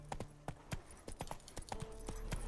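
Horse hooves clip-clop in a quick, steady rhythm as a rider travels in the video game The Witcher 3, heard faintly and without talk.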